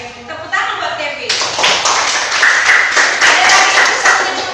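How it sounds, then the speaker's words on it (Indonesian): Students in a religious education classroom clapping hands together, a burst of mixed claps starting after a second and continuing steadily to the end, with some talking in the room. "Tepuk tangan buat Kevin"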